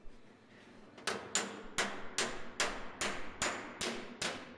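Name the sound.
hammer on dolly tapping sheet metal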